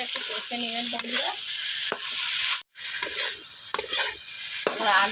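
Potatoes and spice paste are pressed and stir-fried in a pan, a loud close hiss of frying under repeated scraping and pressing of the spatula, with a brief dropout midway.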